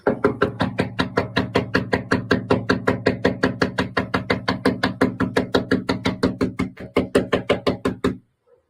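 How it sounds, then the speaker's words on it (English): A hand raps rapidly and continuously on a house door, a long, even run of sharp knocks close by and loud, ending suddenly. "Me knocking on their door because I'm a civil human being."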